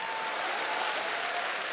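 Steady, dense applause from a studio audience at a televised comedy league competition, loud and continuous throughout with no break or talk on top.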